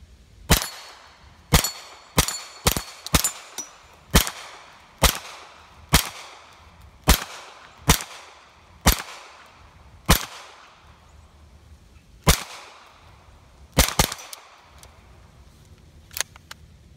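A Kel-Tec Sub 2000 Gen 2 9mm carbine fires polished steel-cased ammo. Roughly sixteen sharp, loud reports come at a mostly steady pace, with brief gaps between some shots and a ringing decay after each.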